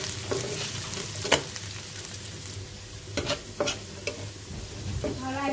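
Onion, garlic and dried chili sizzle in hot oil for a tempering, a steady frying hiss punctuated by sharp scrapes and clinks of a stirring spoon.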